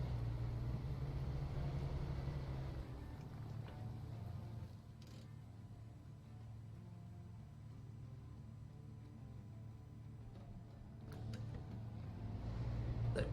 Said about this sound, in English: I really am driving through all of this way faster than I should be.